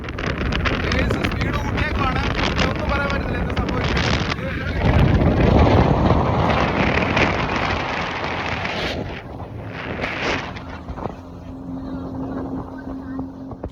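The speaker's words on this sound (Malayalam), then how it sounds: "ഡബിൾ എൻജിൻ ബോട്ടാണ്" A double-engine boat speeds along the water off Pattaya. Wind buffets the microphone over the steady engine roar and spray, with voices faintly mixed in.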